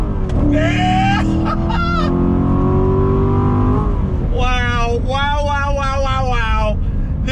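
A C7 Corvette Grand Sport with the 7-speed manual pulls hard in second gear, its engine note rising loud and close in a sustained climb, then dropping and climbing again while a man cheers over it.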